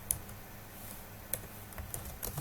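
Faint, sparse clicks of a computer keyboard as C++ code is typed, a few isolated keystrokes spread over a quiet background hum.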